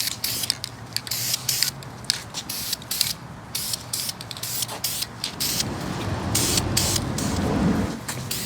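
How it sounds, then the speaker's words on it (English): Aerosol can of Duplicolor chrome paint spraying silver trim on a vintage VDO Porsche gauge, a steady hiss that swells louder toward the end with faint clicks and handling noises. "And then for our silver trim, we're using a duplicolor chrome."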